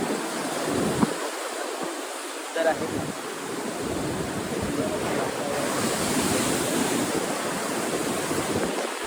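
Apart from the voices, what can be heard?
ocean waves on beach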